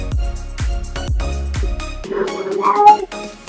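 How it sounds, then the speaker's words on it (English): A cat meows a few times during a Magic: the Gathering Commander game session, its short cries loud and close, rising over the background of the room. "What is that noise? That is a cat, it sounds like."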